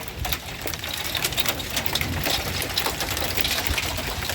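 Hail and rain pelt down steadily during a tornado-warned storm, pea-sized hailstones adding scattered sharp ticks over a continuous dense wash of falling rain, loud and close throughout.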